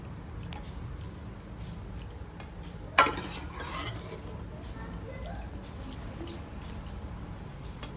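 Cooked macaroni is spooned onto a plate, with one sharp clatter of spoon on plate followed by faint scraping over a steady low background hum.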